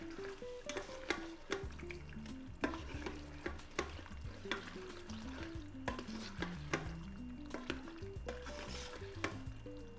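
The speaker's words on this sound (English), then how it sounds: "Put in 1/2 cup of the heavy cream. Give that a stir." Heavy cream is stirred into pasta in a pressure cooker pot, a spoon scraping and clinking repeatedly with soft wet squelches and a faint sizzle, close and steady with no talking.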